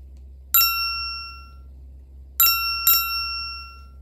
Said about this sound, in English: How many bells did you hear?